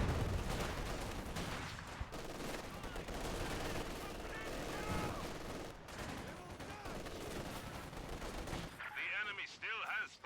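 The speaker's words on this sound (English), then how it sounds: "The amount of munitions that the Allies have had for this match means they can just barrage with that Zis gun" A ZiS gun artillery barrage in a strategy video game keeps up dense, continuous firing and blasts throughout, quiet overall, with a voice coming in near the end.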